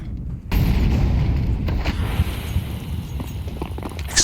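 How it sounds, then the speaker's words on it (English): A sudden loud explosion bursts out in a Counter-Strike match between Eternal Fire and 3DMAX at IEM Katowice 2025, followed by a sustained rumbling wash with scattered sharp cracks. "Explosion out long"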